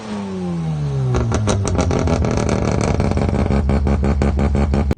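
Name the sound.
rotary car engine running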